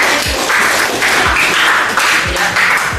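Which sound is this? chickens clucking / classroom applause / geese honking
classroom applause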